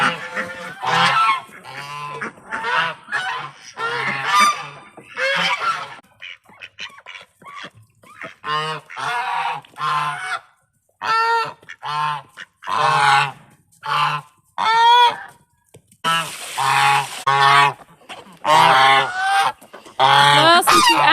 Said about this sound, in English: the geese are mad at me because they can't get out